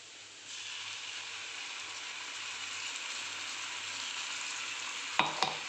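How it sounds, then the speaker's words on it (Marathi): Fried onion cooks in a pan with puree just added, making a steady, fairly loud sizzling hiss, then two sharp utensil scrapes near the end. "आता कांदा चांगला परतला गेलेला आहे आता यात आपण आपली प्युरी ॲड करून घेऊया"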